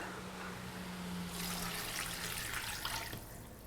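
Water pours from a tap or container into a pot of beef and oyster stew with potatoes, a steady splashing rush heard up close with no one talking.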